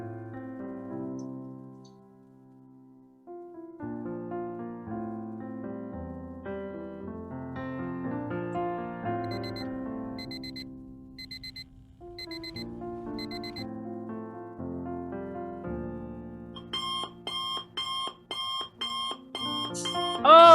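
An alarm clock rings in a loud, repeated electronic beeping pattern over a musical background, the pulses growing more insistent toward the end.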